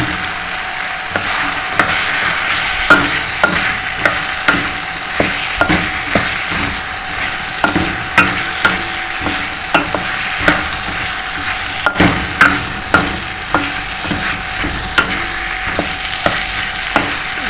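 Okra fries steadily in spiced oil for hari mirch bhindi, a dense continuous sizzle broken by frequent sharp clicks and scrapes of a spoon stirring the pan, close and fairly loud with no voices.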